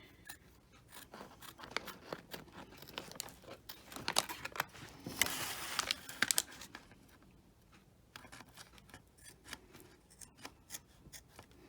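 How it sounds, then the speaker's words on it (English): Bent scissors trimming fabric along a line of stitching in a series of close, crisp snips, some clustered rapidly and some spaced apart, with brief rustles of cloth between cuts and a busier burst of cutting near the middle. "I'm going to use my bent scissors, and I'm going to just trim along this stitching that I did here."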